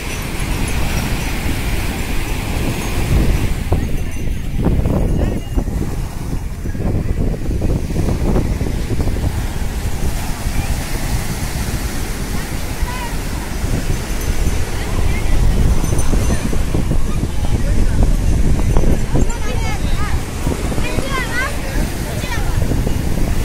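Ocean surf at Marina Beach, Chennai, a steady loud wash of breaking waves mixed with wind rumbling on the microphone, with a voice talking over it.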